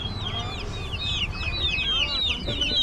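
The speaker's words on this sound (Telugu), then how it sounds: "ఇవే కోళ్ళు ఉండేవి" Chickens cluck at a tribal market, with repeated close-up squawks and clucks over a busy murmur of crowd talk.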